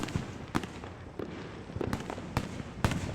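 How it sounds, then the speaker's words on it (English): Fireworks bang and crackle at New Year in a series of sharp, fairly close bursts at irregular intervals, heard on their own without talk. "Oh, look! Ah, fireworks."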